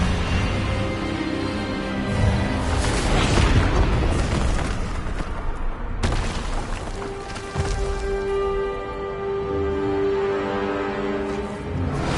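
A disarming spell cast in the Hogwarts Legacy video game lands as a heavy magical boom and burst, with a sharp crack midway followed by a lingering rumbling tonal hum, dense and loud throughout.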